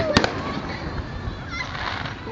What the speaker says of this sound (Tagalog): Anong favorite mong color ng fireworks?